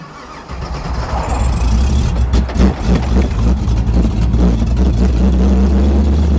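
A Pontiac Trans Am with a failed clutch cranks and fires while in gear, its engine catching after a brief churn and settling into a loud, rough, close idle with low rumble.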